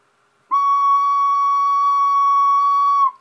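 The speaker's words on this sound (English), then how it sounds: "here's a plastic ocarina from TNG" A plastic TNG ocarina sounds one long, steady note, clear and even with no shrillness, holding for about two and a half seconds before stopping cleanly, played alone and close.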